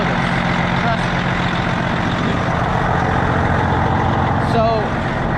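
A Freightliner Classic truck idles steadily while warming up, a continuous low engine rumble with faint hissing, heard up close and alone without talk.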